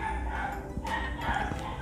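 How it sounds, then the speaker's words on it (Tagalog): Several dogs bark and yip from a nearby upstairs room, a few scattered sharp barks and whimpers over a steady indoor background hum, moderately faint. "Concert ng mga aso."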